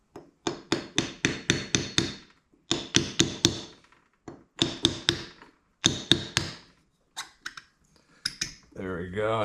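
A brass hammer taps a tight-fitting bushing onto the main shaft of an R154 transmission in quick bursts of sharp, ringing metallic strikes separated by short pauses, with a voice heard at the end.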